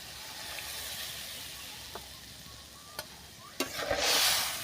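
Fish curry made with flaky foli fish, papaya and potato is stirred in a pan, with a soft continuous sizzle, a few sharp scrapes of the spoon against the pan, and a louder rush of steam and sizzling near the end.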